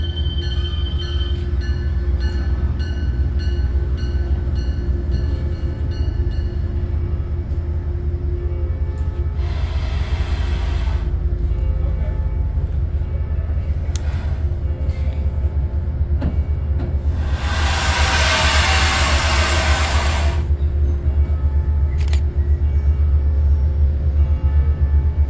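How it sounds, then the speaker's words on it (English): A Metro-North train pulling out of Poughkeepsie station toward Grand Central, heavy continuous rumble and wheel noise on the tracks, with a couple of bursts of hissing brake or air release rising over it. "They would catch us by surprise as they started moving out of the station heading to Grand Central."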